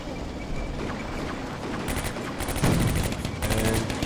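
Combat Mission gunfire in a WWII Eastern Front battle between German and Russian troops: rapid bursts of distant small-arms and machine-gun fire crackle over a steady battlefield rumble.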